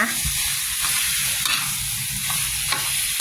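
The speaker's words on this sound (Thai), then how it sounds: "เราจะผัดไปเรื่อยๆ จนเครื่องแกงกับ ขนุนเข้ากันนะคะ" Jackfruit stir-fried with Thai curry paste in a pan, giving a steady close sizzle with scraping stirring strokes throughout, no voices.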